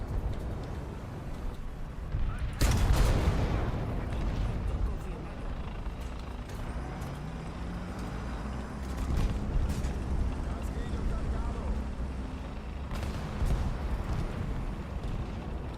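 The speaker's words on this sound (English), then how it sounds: "So much fucking artillery." Artillery fire in the tank game War Thunder, a heavy blast at the start followed by rumbling engine noise and further scattered distant impacts, with a player talking over parts of it.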